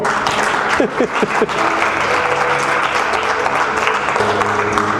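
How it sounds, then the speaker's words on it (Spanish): A church congregation at a Spanish-language service applauds, a loud, full wash of clapping sustained throughout, with voices calling out and a few sustained tones from music or shouting mixed in. "Denle un aplauso al Señor."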